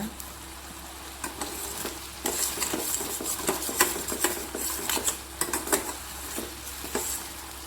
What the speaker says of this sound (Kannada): ಇದನ್ನು ಕೈ ಆಡಿಸ್ತಾ ಇರಬೇಕು, ಇಲ್ಲಾಂದರೆ ಬೇಗ ಬುಡ ಹಿಡಿಯೋದು